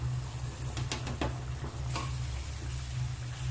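Potatoes mixed with ground spice in a pan, a faint scraping and stirring patter with a few sharper clicks of the utensil over a low steady hum, no speech.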